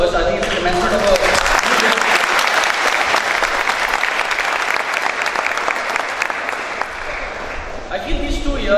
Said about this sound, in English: I would want to begin with you all giving a big round of applause for yourself first.